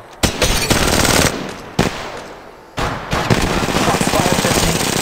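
Bursts of automatic weapon fire in the shooter game Apex Legends, loud and close: a long rapid volley, a brief pause, a fading stretch, then another sustained stream of shots.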